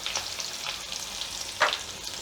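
Green chillies and asafoetida sizzle in hot oil for a samosa filling, a steady close crackle with a brief louder burst of spitting near the end and no talking.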